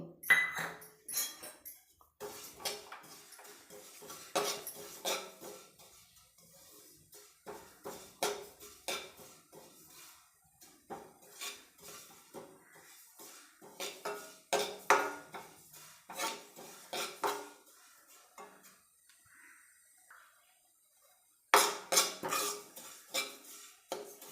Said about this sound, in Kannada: ಮೊದಲು ನಾನು ಬಿಳಿ ಎಳ್ಳನ್ನ ಹುರಿದು ಸಪ್ರೇಟ್ ತೆಗೆದಿಟ್ಕೊತೀನಿ